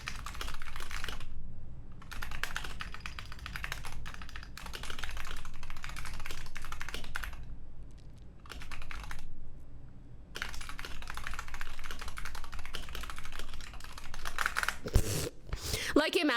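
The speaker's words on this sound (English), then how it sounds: "I'm gonna just type it." Computer keyboard typing, a steady stream of close, crisp key clicks in bursts with brief gaps, while people talk quietly in the background.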